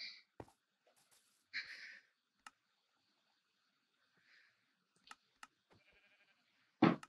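Minecraft sheep give several short, separate bleats spread across a mostly quiet stretch, with faint clicks and game sounds between them and a louder bleat and click near the end.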